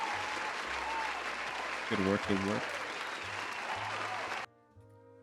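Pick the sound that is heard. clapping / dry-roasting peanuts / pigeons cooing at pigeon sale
clapping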